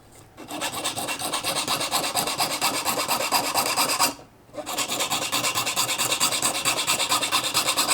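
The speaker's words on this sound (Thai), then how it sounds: "ตะไบผมใช้ตะไบท้องปิงนะครับเพราะเหรียญตัวนี้เป็นเหรียญกลม" Rapid, rhythmic rasping strokes of a half-round hand file on a round metal amulet case, loud and close, with one brief pause halfway through.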